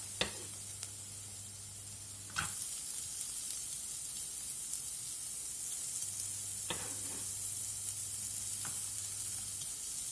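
Carrots frying in oil in a pan, a steady moderate sizzle with a few sharp clicks and scrapes from stirring; a low hum runs underneath at times.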